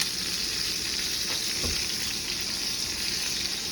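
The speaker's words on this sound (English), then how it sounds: "we're going to lift our steak up and cook that nice fatty edge on the side" A steak sears in a pan beside herbs, giving a constant close crackling sizzle with one brief louder spit partway through. No one talks.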